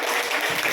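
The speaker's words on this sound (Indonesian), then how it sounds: "Tepuk tangan kelompok 3." A classroom group claps for group 3 after their presentation, a brief burst of steady mixed applause.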